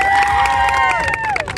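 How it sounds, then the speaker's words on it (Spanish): Crowd at a fair cheering and applauding for a small boy, a brief burst of loud shouts and whistles with clapping underneath. "Un aplauso para el niño."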